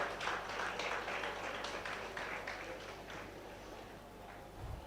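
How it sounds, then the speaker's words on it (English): Audience applause at a Professional Insurance Ladies Association gathering greeting the association president, a faint, steady patter of many hands clapping from a distance, fading slightly toward the end. "Please put your hand together for him. Let your applause bring him here."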